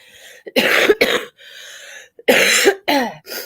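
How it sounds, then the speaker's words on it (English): A person coughs several times close to the microphone, harsh bursts separated by short gaps, with a brief throat-clearing breath between them. "to cough like right in the microphone"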